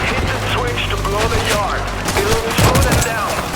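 Rapid, close gunfire in the World War Z Aftermath zombie shooter, a dense stream of sharp cracks over a busy, noisy combat scene with constant crashes and game effects.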